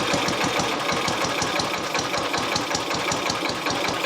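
A BSA Gold Star ZB32 classic motorcycle single fitted with a TT carburettor runs steadily while not yet fully warm, giving a loud, close, rapid, even thumping beat with no voices over it.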